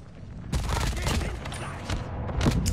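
Grenade blasts in Call of Duty, a burst of heavy booming explosions and gunfire that starts abruptly and rumbles on, with more blasts near the end.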